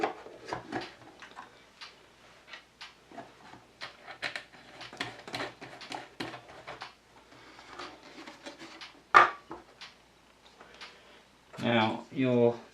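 The plastic lid of a Litehawk Charger RC car is fitted back on with a string of small clicks, taps and light handling knocks, close and fairly quiet, ending with a brief louder scraping buzz.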